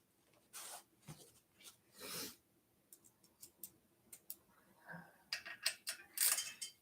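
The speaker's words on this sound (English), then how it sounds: "I might use my trusty little Topeak ratchet wrench here." A small Topeak ratchet wrench works on a city bike, giving scattered close clicking ratchet bursts and light metallic ticks separated by short pauses, with no talk.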